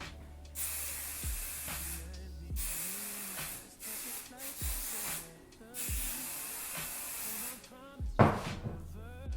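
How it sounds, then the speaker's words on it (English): Hairspray hisses from an aerosol can onto hair during a girls' night out styling routine, in several long close bursts separated by short pauses, with handling noises between sprays. "I take my hairspray and then I'm gonna flip it over."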